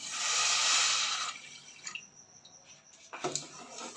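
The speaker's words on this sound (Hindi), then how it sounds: "और डालूंगी 1 गिलास पानी।" Water pours steadily into a pan with sugar for syrup for over a second, then stops, followed by a few light clinks and splashes nearby.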